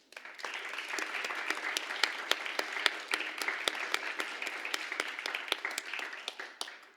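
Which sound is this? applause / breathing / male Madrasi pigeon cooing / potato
applause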